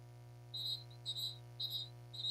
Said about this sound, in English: Whistles come in.